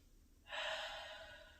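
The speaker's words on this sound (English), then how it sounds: "Downward facing dog. 2 deep cycles of breath." A single deep breath taken while holding a downward facing dog pose in vinyasa yoga, a soft, close breathy rush that swells and holds, then eases off slowly.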